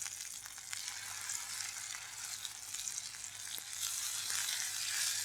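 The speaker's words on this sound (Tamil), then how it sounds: "இப்போ எண்ணெய் காஞ்சாச்சு, நம்ம இதை போட்டுடலாம்." A steady, crackling sizzle of ground spice paste for marunthu kuzhambu frying in hot oil, bright and close, continuing without a break and with no voices.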